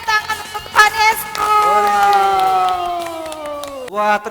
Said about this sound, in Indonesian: Ayo kita beri tepuk tangan untuk Tuhan Yesus.